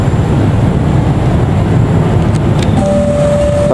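Loud, steady rumble of the Argo Wilis passenger train passing, dense low-frequency roar throughout, and a faint tonal whine rising near the end.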